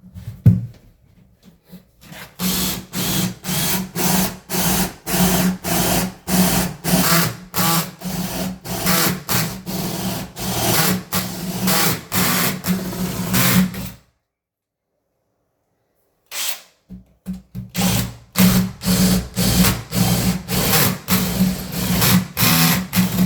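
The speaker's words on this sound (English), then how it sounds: "I drill the spade bit through there" Rapid, rhythmic grinding bursts of a spade bit boring through a wooden door, running for several seconds, pausing briefly, then starting again.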